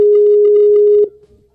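A telephone dialing a call gives one steady electronic tone lasting about a second, then cuts off to near silence.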